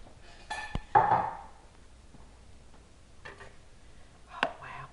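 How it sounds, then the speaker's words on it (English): A metal spoon scrapes and clinks against the side of a pot while mashing cooked red beans for Southern Mississippi red beans and rice, a few faint, sparse taps and scrapes with quiet pauses between them. "take the back of your spoon and against the side of your pot or crock pot, whatever you're cooking in, you can mash a few more"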